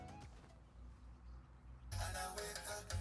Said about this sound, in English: And then it has an amazing sound system that sounds like this.